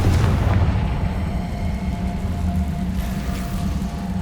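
Confringo spell explosion in the Hogwarts Legacy video game, a loud booming blast with a rumbling tail that fades over a few seconds, with no talk.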